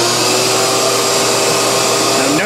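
Steady, loud whooshing drone of a vacuum pump drawing air through a homemade pegboard vacuum thermoformer pressing softened Kydex sheet, running continuously at close range with no talk.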